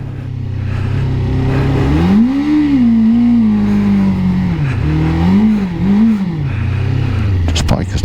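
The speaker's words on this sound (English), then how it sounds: "This bike is not running right." A Suzuki GSXF600 motorcycle engine running rough during a hot ride, its note droning steadily then wavering and surging unevenly, with a voice talking over it.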